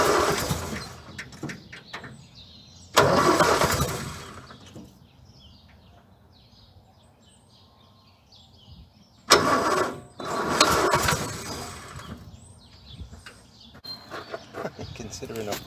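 A Land Rover Series 2a engine, with only one bolt holding the carburetor on and the top missing, cranks and catches twice in loud bursts, then idles and runs roughly between starts, with people talking over it.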